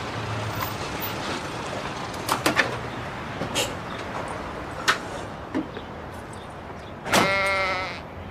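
A sheep bleats in the middle distance, a wavering, harmonic cry near the end after a few scattered shorter calls and knocks across an outdoor scene, with no talking.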